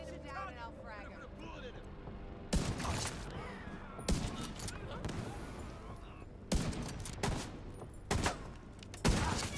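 Gunfire in a video game during a live global-event session, sharp bursts and shots recurring every second or two over steady game noise, with a person talking throughout.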